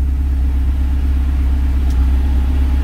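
A Volvo engine, with modified camshaft, turbo boost, methanol injection switched off and an adjusted kickdown cable, pulls hard in second gear, giving a loud, steady, low droning rumble throughout.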